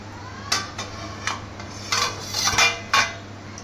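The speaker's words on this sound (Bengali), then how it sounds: "এবার আমি তরকা ডালের ঢাকাটা খুলে দেবো" Metal lid lifted off a pot of tarka dal in a home kitchen, a few close clinks and scrapes of metal against the rim spread over a few seconds, with a low steady hum beneath.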